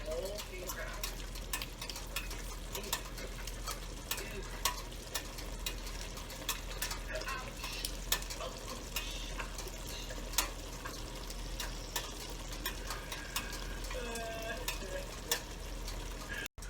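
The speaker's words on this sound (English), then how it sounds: "I have to stir in the concentrate." Sausage, peppers and sauce concentrate being stirred in a pan, a soft continuous sizzle with scraping spoon strokes and small clicks running steadily underneath, fairly quiet and close.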